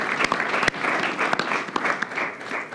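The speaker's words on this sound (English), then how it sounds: "just a round of applause for everyone because I think we deserve it" A crowd claps in a brief burst of applause at a student government senate meeting, dense and lively, with a few louder individual claps standing out.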